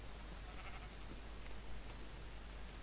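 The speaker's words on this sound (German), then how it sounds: "Es ist entweder Herobrine oder ein Schaf. Das Schaf verarscht mich jedes Mal wieder." Faint sheep bleating from the Minecraft video game rises briefly over a quiet, hissy background, alone with no talking.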